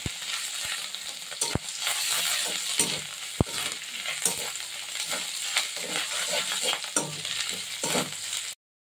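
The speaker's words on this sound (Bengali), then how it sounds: "হিংটা দিয়ে ওই যে কাঁচা লঙ্কা আর আদাটা দিয়ে দিলাম। এবার একটু নেড়ে নেবো সুন্দর।" Asafoetida, green chilli and ginger fry in hot oil while being stirred for an urad dal radhaballavi, giving a steady close sizzle with scattered sharp scrapes and clinks of the spoon against the pan, then an abrupt stop at the end.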